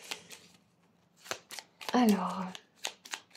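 Tarot cards being shuffled and drawn, with a few crisp riffling bursts and a longer shuffle in the middle, close by. A person speaks briefly between the card sounds.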